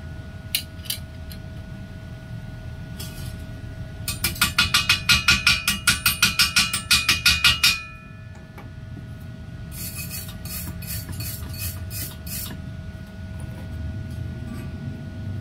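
A gasless MIG welder running at about 100 amps lays down a bead in rapid, evenly spaced crackling bursts, with a pause and then a sparser second run over a steady electrical hum.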